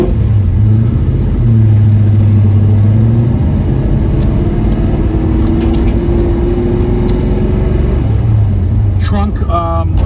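A 1981 Chevrolet Camaro Z/28 pro touring car revs while driving, its deep engine rumble loud and close, the pitch rising and falling through gear changes, with a person talking under it.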